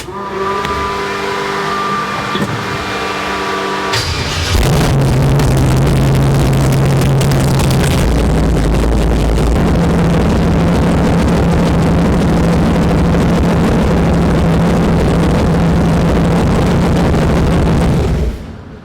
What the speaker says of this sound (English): I'll give it a pump of gas and it should crank over.